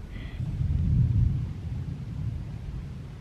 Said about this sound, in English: having ourselves a little thunderstorm